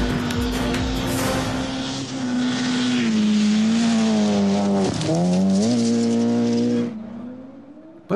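The twin-engine Volkswagen Pikes Peak Golf II race car screams at high revs close by, its loud engine tone dipping and rising through gear changes before cutting off abruptly near the end.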